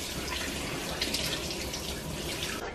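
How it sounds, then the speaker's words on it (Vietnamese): Cold tap water runs hard into a sink while a pork heart is rinsed under it, producing a steady, close, hissing splash with brief irregular spatters and no talking. "Sau đó thì mình rửa lại với vòi nước lạnh."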